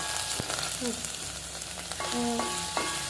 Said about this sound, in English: If you have money, use olive oil, and if you don't have money, then use another oil. Fry it.